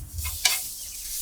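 Butter hits a hot pan and crackles into a quick sizzle, a brief close hiss with a sharp spike that settles into a softer, steady fry.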